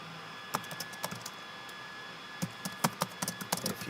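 Computer keyboard typing while entering comments on an online print order form: scattered quiet key clicks in short bursts, with a pause in the middle and a denser run of taps toward the end.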